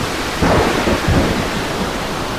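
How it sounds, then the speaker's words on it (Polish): A thunderstorm effect with steady heavy rain and rolling thunder swelling twice in quick succession, loud and enveloping, no voices. "Szalała straszliwa burza."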